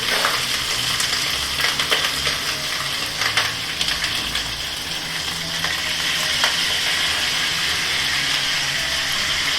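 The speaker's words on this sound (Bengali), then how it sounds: "কপিটা ভাজা ভাজা করে ভেজে তুলে নেব" Loud, continuous sizzle and crackle of cauliflower pieces frying in hot oil, with occasional scraping stirs and no voices.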